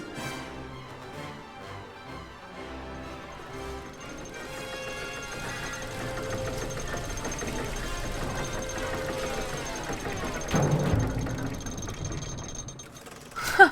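In The Book of Unwritten Tales 2, a broken engine mechanism gives off faint rattling, ratcheting clanks and gear noises that grow denser, then end in a louder thump near the finish.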